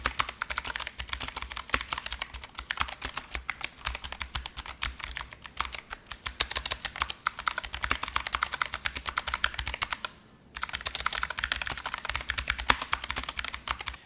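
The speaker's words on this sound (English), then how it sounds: "The keys are responsive and wonderfully clicky, and best of all, the blue switches are loud and satisfying." Rapid, continuous clicky typing on an Asus K3 mechanical keyboard with blue switches, sharp dense keystrokes close up with one brief pause near the end.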